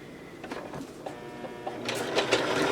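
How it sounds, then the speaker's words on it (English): A home sewing machine stitches quilt half square triangles on paper foundation, a steady mechanical whir with rapid needle clatter heard up close and alone, growing a little louder toward the end. "And then you go to the sewing machine and sew it."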